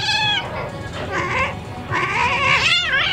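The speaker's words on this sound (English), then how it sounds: "Griffin, how about I lay in this bed and just put all the cats on me" Several cats meow at a cat cafe in Tokyo, a string of drawn-out, rising and falling meows and one wailing cry filling the clip up close, with no talk.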